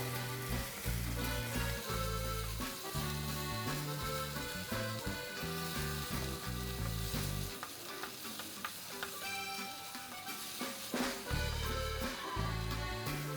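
Coriander chutney frying in oil as it is stirred in the pan, giving a steady, close sizzle with scraping stir strokes and a dense, rhythmic texture throughout.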